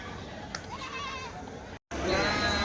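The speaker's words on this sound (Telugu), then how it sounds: "ఎంతనా ఇవి మేకపోతులు?" Male goats bleat at a weekly sheep and goat market in Kadiri, with one wavering bleat standing out over a busy murmur of crowd noise and a brief dropout near the end.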